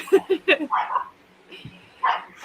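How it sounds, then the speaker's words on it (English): A few quick, sharp dog barks up close, then a yip or two after a short pause. "I heard a"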